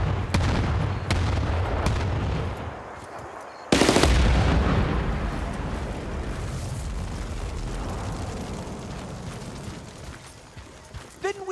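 Gunfire and explosions in Battlefield: Bad Company, a dense run of rifle shots followed by a loud blast at about four seconds whose rumble decays slowly, with a voice talking over the action.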